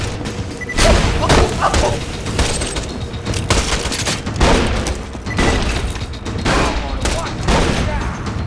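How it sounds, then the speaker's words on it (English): A grenade goes off in Borderlands 2 amid dense, loud combat, with repeated heavy bursts and booms pounding continuously through the passage. "That grenade literally landed on my face."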